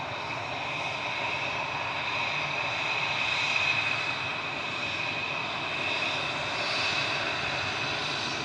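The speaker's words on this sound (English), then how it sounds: "departing now is EasyJet 3838 to Milan, OE IDO, and A320 Classic, you can hear" An EasyJet Airbus A320 Classic jet departs Manchester Airport for Milan, its engines a steady, moderately distant roar with a whining tone, holding evenly throughout with no talk.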